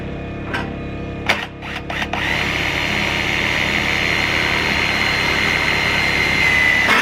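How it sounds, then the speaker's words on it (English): A power drill drives screws into siding on a raised garden bed, a few short clicks and bursts up front giving way to a long, steady, close motor whine that holds for several seconds. "I'm going to go ahead and finish screwing this in."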